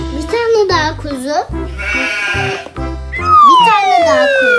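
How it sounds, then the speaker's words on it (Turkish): A toy lamb bleats several times in a row, with loud, wavering, nasal cries and short pauses between them. "Bir tane daha kuzu."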